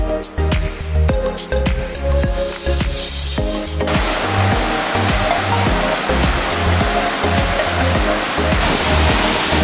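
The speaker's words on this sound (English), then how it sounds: "This is the second waterfall up on the way to the hike, and definitely the biggest." The large second waterfall on the Lost Waterfalls hike in Boquete, Panama roars loudly and continuously with a dense, close rush of falling water, partly overlaid at the start by rhythmic music.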